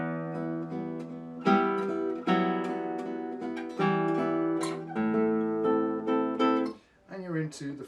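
Classical guitar playing a passage of Villa-Lobos Prelude 1, with several plucked notes and chords ringing out in sustained, resonant layers, played close and alone.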